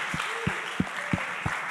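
At a prayer week gathering, a congregation claps to Jesus in slow, evenly spaced beats over a steady background, with a brief tone sliding through between claps.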